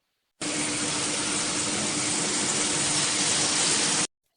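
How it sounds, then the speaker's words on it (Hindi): Four mugs of water are poured into a pot of meat, a single steady gushing splash lasting a few seconds that starts and stops abruptly. "अब गोश्त को गलाने के लिए मैं इसमें 4 मग पानी शामिल कर रही हूँ"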